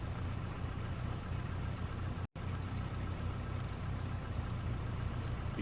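Simulated Cessna 172 Skyhawk piston engine idling after start in a flight simulator, a steady low rumbling drone at even level throughout, with one brief dropout partway through.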